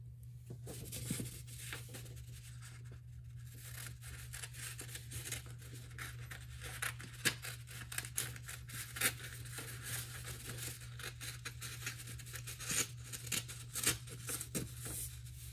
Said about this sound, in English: Now what we need to do is just cut this rectangle off, and this is why we need our scissors.